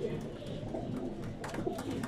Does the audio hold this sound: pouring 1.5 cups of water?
no